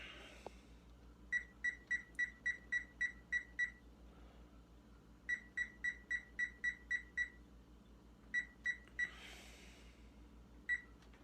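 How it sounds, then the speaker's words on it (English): A kitchen timer beeps while ice cream bread dough bakes. The sharp electronic beeps come in several rapid runs of about eight evenly spaced pulses, then one last lone beep, set against a quiet room hum. "Timer."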